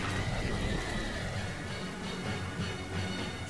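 A horse whinnies, a drawn-out neigh sounding fairly close against a steady background with no voices.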